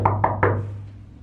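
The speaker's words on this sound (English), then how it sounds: "She knocks on the door." Three quick knocks on a door ring out in a steady, even rhythm, fairly close and clear, then fade into a quiet room hum.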